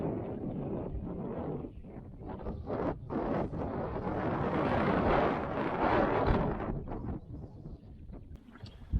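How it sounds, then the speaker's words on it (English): Wind gusts across a lake while fishing, a soft, uneven rush with low rumbling that rises and falls in swells, never quite dying away. "It has become awful windy on this side of the lake,"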